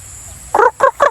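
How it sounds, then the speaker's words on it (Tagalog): Chickens cluck three times in quick succession, loud and close, after a brief stretch of quiet background. "Daghang manok."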